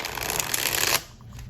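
A Light Seer's Tarot deck with broken-in, once-stiff cardstock being shuffled: a steady riffling flutter of cards for about a second, close and fairly loud, then stopping abruptly into quiet.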